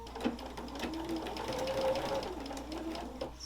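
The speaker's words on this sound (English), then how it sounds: "Start sewing." A sewing machine stitches binding onto a quilt with a quiet, steady mechanical whir and light rhythmic ticking, running continuously at close range.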